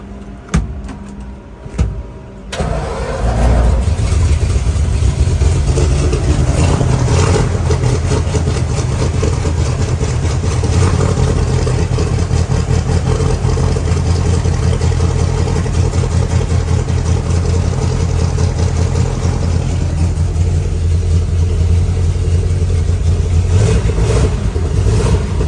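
A 1952 Ford F1 truck engine cranking briefly, then catching and running at a loud, steady idle close to the microphone for the rest of the stretch, with a slight rev near the end.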